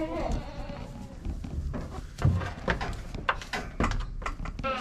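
Goats bleating in a pen, several short nasal calls overlapping at moderate distance amid scuffling and knocking noises, fairly faint overall.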